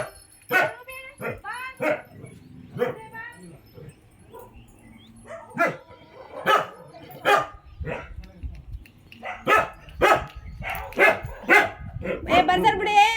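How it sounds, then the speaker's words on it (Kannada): Several dogs quarrel and bark at Pattada Yellamma temple in Hampi, with sharp, repeated barks and yelps coming in loud, close bursts, some of them overlapping. People's voices are also present in between. "ಜಗಳ ಜಗಳ ಜಗಳ ಇವು ನಾಯಿಗಳು."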